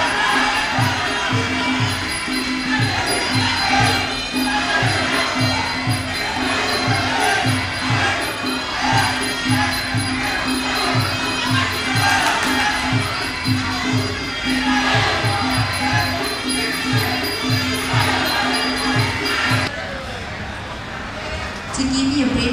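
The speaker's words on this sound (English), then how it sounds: "the crowd gets more excited and animated" Loud, lively crowd cheering and shouting at a Muay Thai fight in Thailand, rising in excitement over a steady rhythmic drumbeat, then quieting briefly near the end.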